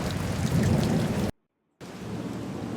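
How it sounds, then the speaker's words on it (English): Steady, dense rain hisses loudly, cuts to a brief silence, then resumes slightly softer. "It is raining."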